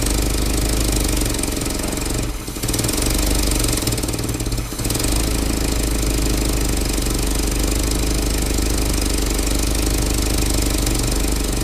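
A Ford GPW jeep engine idles steadily up close, with a rough, chuffing exhaust note from an exhaust leak running the whole time and two brief dips in level early on.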